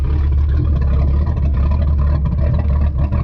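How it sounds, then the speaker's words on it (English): A Ford 351 V8 inboard boat engine runs throughout, a steady, loud, deep rumbling drone with no voices, holding an even idle. "Now with the engine running,"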